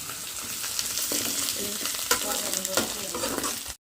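Ginger garlic paste fries and is stirred in a pan while a curry is being cooked, giving a steady close sizzle with scraping stir strokes throughout, then a sudden stop near the end.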